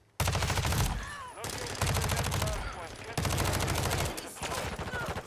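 Rapid automatic gunfire in the Modern Warfare 2 beta video game, three long sustained bursts of loud, close shooting separated by brief pauses, with faint voices underneath.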